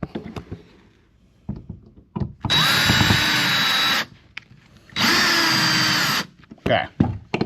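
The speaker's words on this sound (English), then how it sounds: "So if you use your drill," A power drill driving screws into an electrical outlet box whirs in two sustained bursts of about a second and a half each, separated by a pause, with handling clatter around them.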